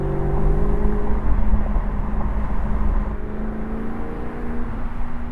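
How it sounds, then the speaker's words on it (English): A Maserati GranTurismo Convertible in sport mode downshifts, its engine droning with a steady low hum that dips slightly partway through, heard from inside the moving car without talk. "I'm gonna go into sport mode, and I think it's time for me to downshift a little bit."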